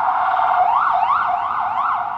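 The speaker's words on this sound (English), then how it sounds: "Man, those sirens are so annoying." Emergency vehicle sirens wail on a New York street in Greenwich Village, a loud steady rising-and-falling tone close by, sweeping up and down several times with no talking.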